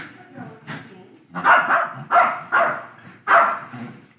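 A young dog barks and yips in four or five sharp bursts close by, with a faint whimpering quality, while people talk nearby.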